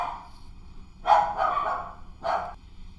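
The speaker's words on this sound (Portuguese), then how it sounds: "Os cachorros latiram aí" A dog barks indoors in the background, a few spaced barks that break into a quiet room, a pair close together and another a moment later, with no talk over them.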